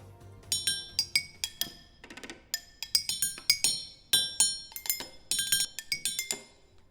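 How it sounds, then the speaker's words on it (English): Bright metallic bars struck one after another in a quick, uneven melody, each hit ringing briefly with a clear chiming tone, close and alone. "strikes each bar, the bar vibrates"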